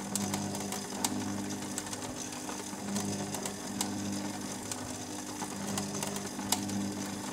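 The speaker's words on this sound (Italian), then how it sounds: "La lavatrice ha smesso." A domestic washing machine runs steadily with a continuous mechanical whir and low hum, sprinkled with small ticking clicks and rattles throughout.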